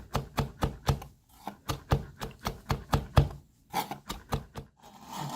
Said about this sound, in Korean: 파는 조금만 흰 부분을 곱게 다져서 넣어보도록 하겠습니다